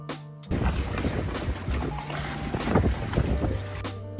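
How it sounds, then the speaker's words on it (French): Strong west wind buffets a sailboat at its mooring in a sheltered harbour near Toulon, a steady roaring rush with gusting swells and occasional knocks of rigging or hull, close and loud without any talk. "Il y a beaucoup trop de vent, même ici"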